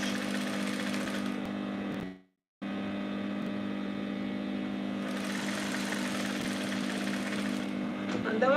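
A sewing machine stitches a straight skirt near the zip allowance, running in a steady, loud mechanical whir that stops briefly, then continues at an even pace.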